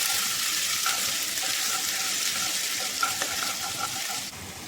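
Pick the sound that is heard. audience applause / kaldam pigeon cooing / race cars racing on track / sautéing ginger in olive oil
sautéing ginger in olive oil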